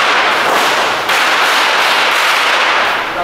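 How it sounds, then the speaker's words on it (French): Firecrackers set off to scare away large monkeys in Mauritius burst in a dense, loud, continuous crackling barrage, close by and unbroken for the whole stretch. "ça c'est des pétards qu'on a fait parce que quand il y a des gros singes"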